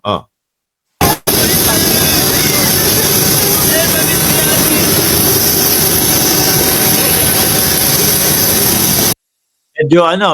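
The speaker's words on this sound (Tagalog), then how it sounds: "Yung engine ng eroplano." A loud, steady roar of a jet airplane engine running continuously up close during boarding, broad and constant, starting and stopping abruptly.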